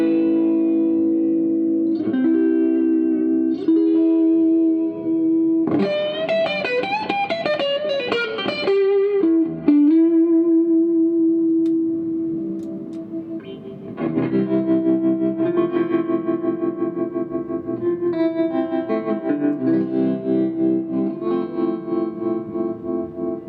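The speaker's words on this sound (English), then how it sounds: "the amp by itself has just this beautiful, sweet, kind of buttery, clean sound that we've never done before" An electric guitar plays through an Orange amplifier with a clean tone and a warbling speed-switching effect, moving from single notes and chords into faster shimmering passages, played alone without talk.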